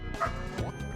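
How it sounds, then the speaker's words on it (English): A dog barks nearby: a short, muffled yip heard faintly indoors during a tournament broadcast, with a steady background hum. "Oh, there's my dog barking."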